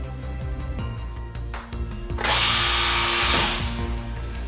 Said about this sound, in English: F, vertical drilling only.